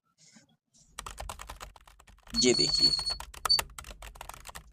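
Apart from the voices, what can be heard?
keyboard typing sound effect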